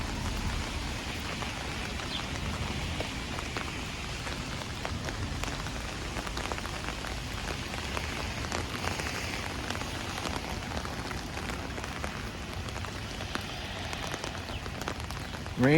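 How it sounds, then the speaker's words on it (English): Steady rain falling on pavement and surfaces during an outdoor walk in Howard Beach, Queens, a dense constant patter filling the whole stretch with no voices. "Rain, rain, stay."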